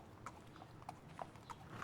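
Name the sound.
horse hooves clip-clopping, audiobook sound effect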